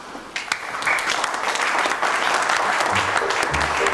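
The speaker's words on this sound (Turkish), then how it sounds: "Neyi alkışlıyorsunuz?" An audience applauds throughout, clapping building quickly after a brief start and holding as a dense, steady wash of hand claps, with a few faint voices underneath.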